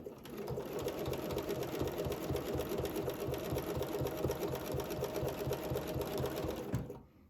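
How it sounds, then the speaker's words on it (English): A domestic sewing machine quilts a straight line in one continuous run of rapid, even stitching for about seven seconds, then stops abruptly. The sound is close and steady. "I can now stitch in the ditch perfectly down that straight line"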